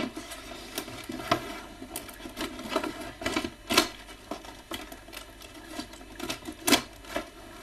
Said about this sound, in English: knife is ready still, and let's cut it open.